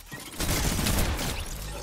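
Gunfire in the video game Fortnite: a dense, sustained burst of rapid shots with a harsh, crackling edge, loud and continuous for nearly two seconds with no talking.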